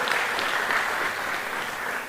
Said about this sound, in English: Let's once again applaud them for their support.